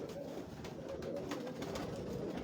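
Tiger pigeons, a breed kept by a Lahore fancier, coo steadily on a rooftop loft, a dense murmur of soft overlapping calls close by with no one speaking.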